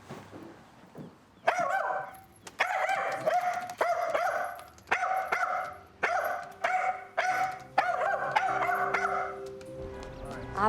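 A dog barks in repeated bursts, sharp yips and bow-wows coming in irregular clusters with short gaps, fairly close and loud, with no talking over them.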